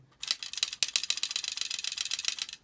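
A small plastic Halo Mega Floodgate forklift toy is shaken by hand, producing a rapid, close, continuous rattle of loose plastic parts clattering for a few seconds.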